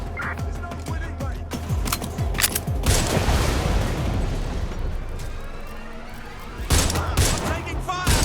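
Rapid bursts of automatic gunfire and heavy booms in Watch Dogs: Legion, loud and dense, with a sustained volley in the middle and another burst near the end, mixed with game voices.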